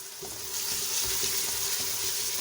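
Whole cinnamon and green cardamom hitting hot oil for aloo gosht, a loud, steady close sizzle and crackle swelling as the spices land, with no talking.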